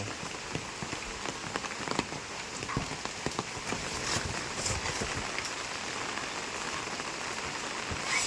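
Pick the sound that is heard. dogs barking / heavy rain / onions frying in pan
heavy rain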